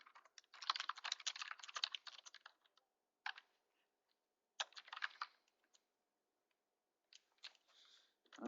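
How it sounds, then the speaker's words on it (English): Someone types a message on a computer keyboard: bursts of quick, light key clicks in irregular runs, separated by short pauses, close and faint with no talking. "I'm just going to type a message here to you."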